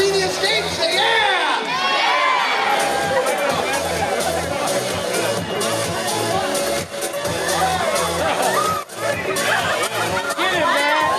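A packed nightclub crowd shouts and cheers loudly and continuously, with dense whoops and yells rising in a steady roar throughout.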